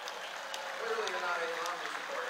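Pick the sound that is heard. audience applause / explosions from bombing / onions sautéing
audience applause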